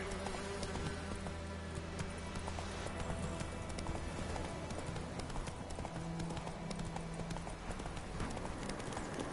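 Roach the horse gallops in a video game with a steady, rapid clip-clop of hooves that stays close and loud for the whole stretch, over a dense layer of game ambience.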